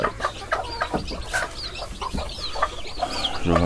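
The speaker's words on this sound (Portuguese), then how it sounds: "Ó, a folga desses pintinhos." Tiny newly hatched bantam chicks peep and chirp busily near at hand as grain is scattered for them, high thin cheeps overlapping with soft clucks from a hen close by.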